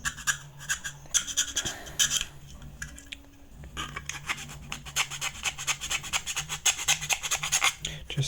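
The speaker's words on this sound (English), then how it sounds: "Some filing." A hand file rasps along the edges of a side cutout in an Arp9 magazine, close, in quick repeated back-and-forth strokes with a brief pause partway, over faint low background noise.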